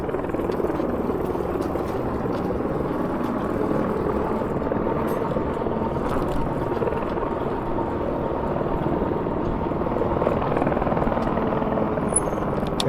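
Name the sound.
helicopter flying overhead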